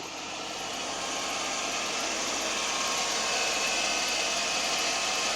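A 2006 Chevrolet Silverado donor truck's engine idles with an even, steady rumble and vibration, held constant for several seconds with no talk.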